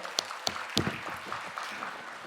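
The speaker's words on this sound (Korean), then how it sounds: "박수 한번 크게 해주세요." A church congregation in Sejong claps for a young member during a service, a short burst of sharp claps that soon thins into scattered, fading applause.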